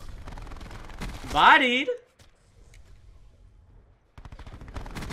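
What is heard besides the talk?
MicroMG 9mm rapid gunfire in Black Ops 4 video game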